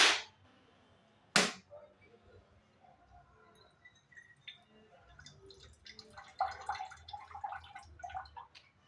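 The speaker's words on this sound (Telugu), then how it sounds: "ఇప్పుడు మా మమ్మీ అయితే కొబ్బరికాయ కొడుతుంది." Two sharp, loud cracks of a coconut being struck open, followed by softer trickling and splashing of coconut water.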